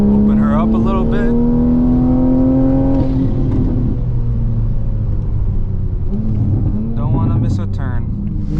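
A modified fifth-generation Toyota Supra pulls hard, its engine note climbing steadily for a few seconds before settling into a loud, steady rumble heard from inside the car, with no one talking.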